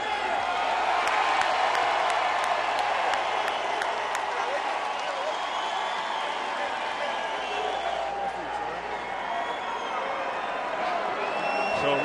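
Boxing arena crowd at the close of the Corey Spinks vs Roman Karmazin fight gives a lukewarm, uncertain cheer, a steady dense roar of voices and scattered claps that stays level throughout, with a commentator talking over it.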